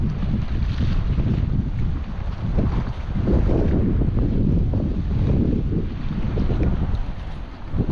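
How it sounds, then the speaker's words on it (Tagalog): Steady wind buffeting the microphone outdoors on the rocky shore of Kuwait Bay, a constant low roar with gusts rising and falling throughout, no voices. "medyo mahangin lang medyo mahangin"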